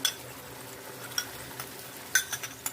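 Liver sizzles softly in a pan with cream and water, a faint steady fry broken by a few sharp clinks of a utensil against the pan.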